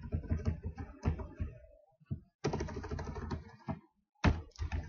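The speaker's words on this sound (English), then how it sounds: "in that area, we are going to type a new tag," An HTML tag is typed on a computer keyboard as bursts of rapid, close key clicks with short pauses between them and no talking.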